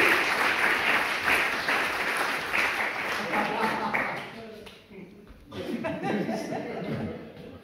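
A cabaret audience applauds loudly, dense clapping and a few laughs filling the first four seconds before fading as a person starts talking over the dwindling claps.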